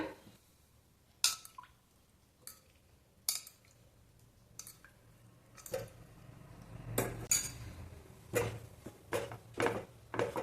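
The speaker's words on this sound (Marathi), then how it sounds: "मीडियम फ्लेमवरती पीठ भाजून घ्यायचं आहे तर बघा तीन मिनिट झालेलं मी भाजत आहे गव्हाचं पीठ" Wheat flour being roasted in a pan over a medium flame, with intermittent scraping and clinking of a utensil against metal as it is stirred, quiet and close with irregular strokes.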